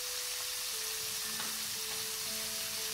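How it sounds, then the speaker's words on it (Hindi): Prawns frying over a slow flame for a Bengali malai curry, a steady close sizzle with soft crackling throughout and no talk. "तो इसे मैं 10 से 15 मिनट तक फ्राई करूंगी स्लो फ्लेम में रख के।"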